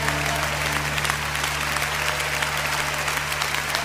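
Steady, sustained applause from a congregation at a church worship concert, clapping for the Lord, with a low music drone held underneath throughout.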